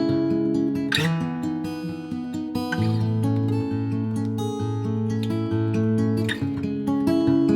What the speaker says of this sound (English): the last pattern is going to be this rolling pattern, which sounds like this.